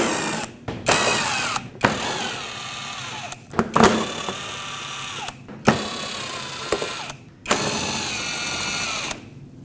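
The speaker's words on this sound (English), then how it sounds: "We'll start by taking off the bolts that hold the plastic on." A power tool with a 10mm socket whirs in repeated bursts as it spins out bolts holding the plastic shield under a Nissan Frontier with a 2.5L four-cylinder, loud and close, with short pauses between bolts.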